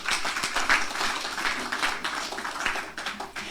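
A church congregation gives loud applause for the Lord during a pastor's sermon, a continuous wash of many hands clapping at close range.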